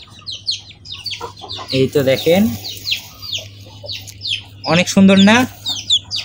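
Black-bodied, white-crested fancy chicks peep and chirp in quick high bursts close by, with a couple of louder squawks in the middle, while someone talks over them and a low hum runs underneath.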